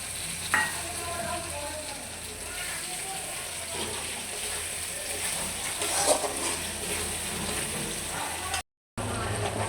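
Ginger and garlic frying in a hot pan, a steady dense sizzle and crackle throughout with occasional stirring scrapes, close and fairly loud.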